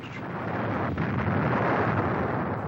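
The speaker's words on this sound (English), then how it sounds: "On this first day, a direct hit on the ammo dump." A heavy artillery round scores a direct hit on an ammunition dump at a besieged Vietnam War base, a dense, loud, sustained rumbling blast roar with no clear onset, filling the whole stretch.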